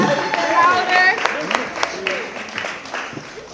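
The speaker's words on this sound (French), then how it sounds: "Acclamons encore plus fort" Applause from wedding guests, a burst of clapping that swells and then thins out, with a voice speaking over it.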